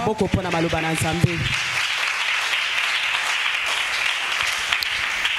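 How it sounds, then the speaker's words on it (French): A church congregation bursts into sustained applause after a scripture reading, with a brief sung or spoken voice at the start before the steady clapping fills the room. "Acclame pour la parole du Seigneur"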